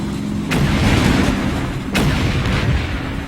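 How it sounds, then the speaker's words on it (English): Gunfire from an enemy trench system in the Combat Mission Red Thunder wargame, two sharp loud reports about a second and a half apart over a rumbling battlefield background. "another trench system over here that's shooting at my infantry"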